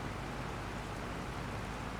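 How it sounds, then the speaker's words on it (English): Steady, even rain hiss from Farming Simulator 22 on a grape-harvest farm, a dense, unbroken wash of falling water that holds at a constant level with no talk over it. "And it is raining till 2 o'clock"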